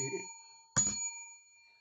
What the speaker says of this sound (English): this is why we sing and we ring the bell